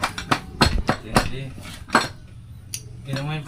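A hammer strikes repeatedly at an uneven pace, sharp close metallic knocks like clinking pots, while a person talks between and over the blows.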